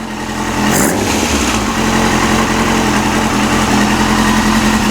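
A Yamaha YZF-R6 motorcycle engine fitted with new ignition coils fires up and settles into a steady, loud, close idle with an even buzzing hum.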